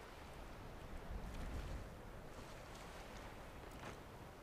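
Water sloshes and washes softly inside a broken, partly sunken ship in The Elder Scrolls V: Skyrim. The ambient surf-like rushing is quiet and continuous.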